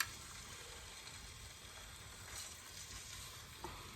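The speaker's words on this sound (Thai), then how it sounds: "เดี๋ยวผมจะใส่ ขาหมูลงไปทอดครับ" A pork leg fries in hot oil over medium heat, giving a faint, even crackling sizzle that runs throughout with one small pop near the end.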